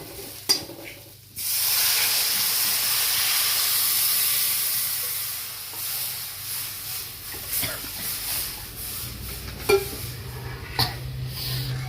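Ingredients frying in hot oil for katachi amti burst into a loud, sudden hissing sizzle that gradually settles, with occasional stirring knocks and scrapes in the pan.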